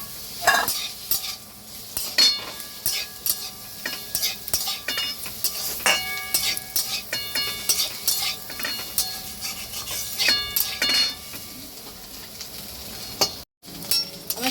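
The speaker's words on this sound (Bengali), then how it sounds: "এবার এর মধ্যে আমি এই চিকেন, চিংড়ি মাছ আর ডিম ভাজা সব একসঙ্গে মিক্স করে নিচ্ছি।" Chicken, prawns and fried egg tossed with vegetables in a pan for restaurant-style mixed fried rice, with steady sizzling under repeated scraping and clinking stirs of a metal spatula, close and continuous with no talk.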